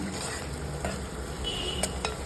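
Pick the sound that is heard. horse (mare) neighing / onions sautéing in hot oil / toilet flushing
onions sautéing in hot oil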